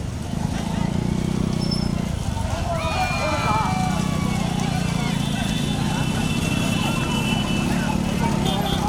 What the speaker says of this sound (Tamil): மாடு எல்லாம் நடக்குது